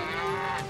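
Cartoon cow on railway tracks giving a single short, loud, sustained moo.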